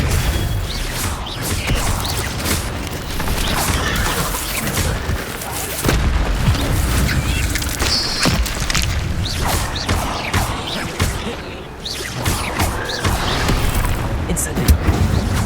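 Expelliarmus and other spells cast in rapid combat in the video game Hogwarts Legacy, producing dense, loud magical blasts, booms and crashing impacts that repeat almost without pause.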